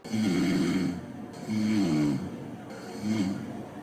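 A person snores three times in a row. Each is a rough, buzzy, low rattling breath lasting about a second, close and fairly clear, with short quiet gaps between them.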